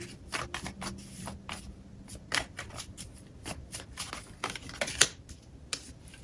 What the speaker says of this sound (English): Let me get 3 oracle cards.